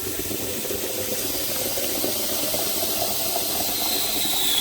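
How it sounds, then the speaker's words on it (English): Cold water pours from a tap into a kettle being cleaned with lemon, a steady, close hiss of running water that holds constant with no talk. "So I'm filling it again with some more cold water."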